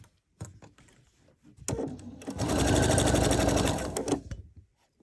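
Sewing machine stitching the edges of a home decor pillow envelope closure: a few clicks and short starts, then a steady, fast mechanical whirring run of about two seconds that stops abruptly.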